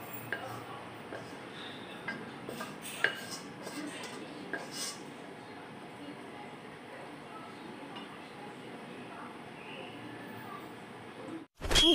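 Stir-fried spinach with oyster mushrooms being scooped from the pan into a bowl, with light clinks and scrapes of utensils against cookware over soft background noise.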